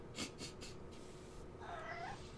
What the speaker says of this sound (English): Can't tell if the cat's angry or...